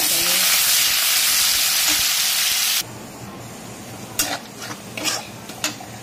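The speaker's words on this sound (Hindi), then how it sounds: "प्याज को हम गोल्डन ब्राउन फ्राई करेंगे" Finely chopped onions frying toward golden brown in a pan, a loud rushing sizzle that suddenly drops to a quieter crackle, followed by several sharp scraping stirs close by.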